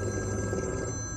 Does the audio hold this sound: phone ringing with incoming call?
yes